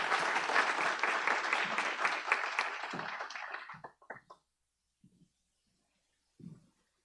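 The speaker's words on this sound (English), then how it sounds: "let's give him a round of applause, please." A Rotary meeting audience at the Park Hotel gives a round of applause after a professor's talk, a full steady clapping that thins and fades out around four seconds, followed by a few faint scattered knocks and rustles.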